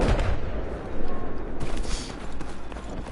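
Gunfire in a shooter video game, with dense overlapping shots and booming blasts forming a loud, continuous barrage that swells and pulses throughout, with faint voices mixed underneath.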